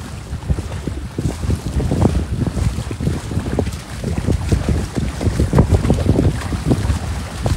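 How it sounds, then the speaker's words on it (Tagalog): Strong wind buffets the microphone aboard a fishing boat out at sea during a milkfish catch, a steady rough low roar with gusting surges and faint water wash throughout, no voices. "Lakas ng hangin dito banda."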